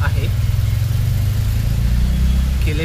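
A car engine runs steadily with a low, even hum close by during heavy morning rain, with no speech heard.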